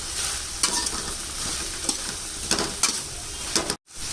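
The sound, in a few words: stir-frying onion manchurian in a pan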